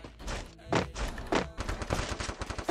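Gunfire in a video game: several loud, close bursts of shots come in uneven clusters, then a rapid string of quicker pops, with no voices.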